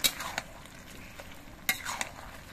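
Bottle gourd curry (lau ghonto) being stirred in a pan: a few quick scraping clinks of a spoon against metal in two short bursts over a soft simmering hiss, close up, without speech.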